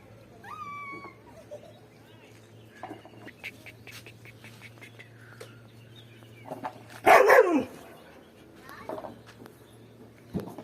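An elderly, unwell twenty-year-old dog and a younger dog at a rural home give sparse barks, with one loud, close burst of barking near the middle amid quieter yaps, bird chirps and a steady low hum.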